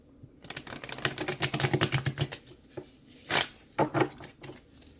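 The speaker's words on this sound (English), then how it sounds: "thank you again so much for being patient with me while I shuffle your cards" Tarot cards are shuffled by hand in a fast run of crisp riffling clicks, then a pause and two more short bursts of card noise, quiet and close.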